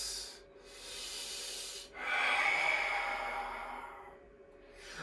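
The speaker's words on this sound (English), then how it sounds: "2 more breaths." Slow yoga breathing sits close to the microphone in a quiet room: a long, airy exhale, then a second long breath, each drawn out over a couple of seconds.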